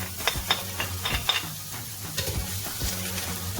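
Onion frying in olive oil in a hot pot on a medium stove for creamy mushroom and broccoli pasta, with a steady close sizzle and a few sharp stirring clacks of a utensil against the pot.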